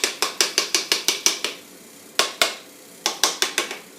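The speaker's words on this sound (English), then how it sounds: "Get a hammer and you just tap around the edges" Quick, sharp hammer taps in rapid bursts, with short pauses between groups, close and crisp with a slight ringing decay, tapping a part into place while assembling an LS1 engine bottom end.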